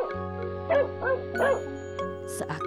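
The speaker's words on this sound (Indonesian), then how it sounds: "Hachiko pun menggonggong berkali-kali." A pet dog gives several short barks and yips in a quick irregular series over a steady musical background, fairly close and moderately loud.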